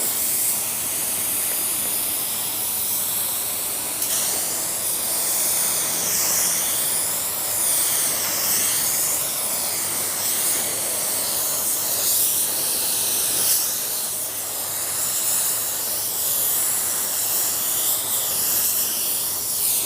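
An auto paint spray gun set to low air pressure, about 12, hisses in a steady, continuous spray close by, with slight swells as passes are made.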